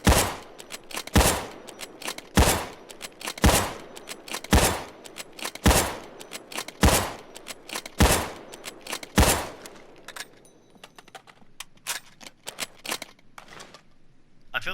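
An MSR Rattlesnake sniper rifle in Payday 2 fires about nine loud, sharp shots at a steady pace roughly a second apart, each with a short decaying tail, followed by quieter mechanical clicks and handling noises.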